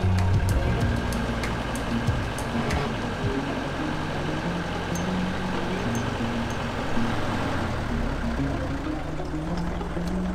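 A boat engine runs steadily aboard a 1960s Cheoy Lee sailboat, a continuous close mechanical drone with constant loudness throughout, no talk.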